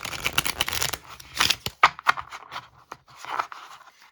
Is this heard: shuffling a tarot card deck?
yes